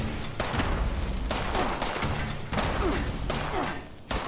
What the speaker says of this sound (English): Somebody else shooting?